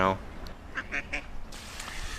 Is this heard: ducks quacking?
yes